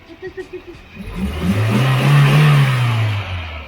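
A 4x4 engine revs up loudly, rising in a long surging roar after a few short sputtering bursts, close and dominant.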